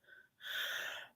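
A single sharp sneeze bursts out close by after a faint breath, loud and breathy, then fading quickly.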